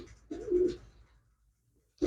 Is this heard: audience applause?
no